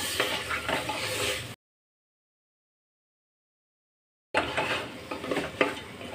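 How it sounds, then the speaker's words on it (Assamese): Sliced bamboo shoots with ginger-garlic paste and salt are stirred in a pan, scraping and clinking close by with a light sizzle, broken by a stretch of complete silence midway. "এতিয়া এইখিনি মই ভালদৰে লৰাই দিম"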